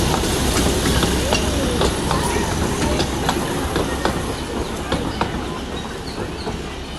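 A toy train runs through a zoo park, its steady rumble overlaid with rhythmic wheel clicks that carry on throughout, fairly close, with faint voices in the background.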